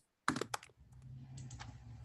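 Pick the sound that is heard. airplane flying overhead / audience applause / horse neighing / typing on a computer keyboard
typing on a computer keyboard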